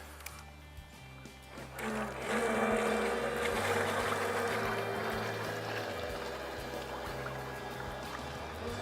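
MK3 remote-controlled bait boat motoring out across a fishing lake toward a marker float, a steady electric motor hum with water wash that swells after a couple of seconds and carries on evenly, with no talking.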